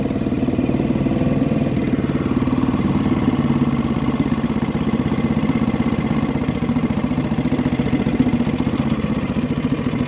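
A 1963 Gale-made Sea King 3hp single-cylinder outboard boat engine runs continuously, a steady close putter and clatter at even volume throughout with no talk.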